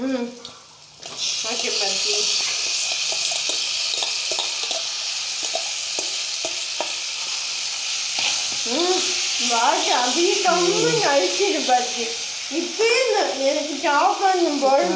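Country chicken stirred in a hot pan, steady sizzle and frying hiss with scraping ladle strokes throughout, a voice talking over the cooking in the later part.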